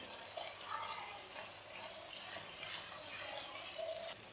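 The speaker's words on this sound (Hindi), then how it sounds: "हाई फ्लेम पे हम इसकी भुनाई करेंगे।" Grated lauki halwa being roasted and stirred in a pan over high flame, a soft continuous sizzle with faint scraping stir strokes, quiet and steady throughout.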